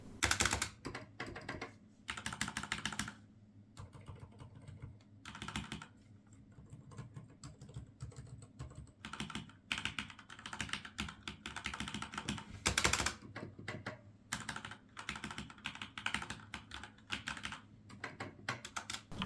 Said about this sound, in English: put both of these keyboards side by side and start pushing down keys